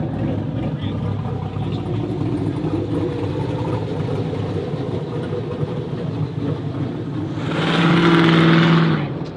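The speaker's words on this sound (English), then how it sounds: "Listen to that rumble. You don't expect to hear that out of an RX-8." A Mazda RX-8 rotary engine rumbles at a busy car meet, a steady low drone running throughout and swelling louder for a moment near the end, with people talking nearby.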